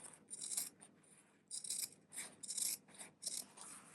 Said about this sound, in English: So I'm going to trim the excess away on the corners here and cut little slits.